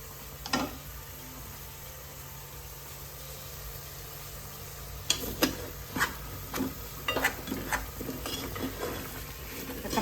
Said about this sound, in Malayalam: ഇതൊക്കെ നല്ലപോലെ ഇളക്കേ